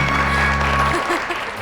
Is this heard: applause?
yes